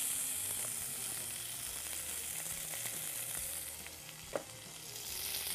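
Meat sears in olive oil in a pan, a steady close sizzle and hiss with a brief clack of a utensil near the end. No one talks.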